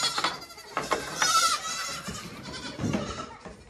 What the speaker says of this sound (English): I've been assaulted by a baby goat